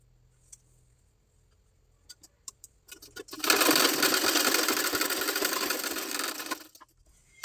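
A sewing machine stitches back tucks on a blouse, starting with a few clicks and taps, then running in one steady whirring burst of about three seconds before stopping. Nobody speaks.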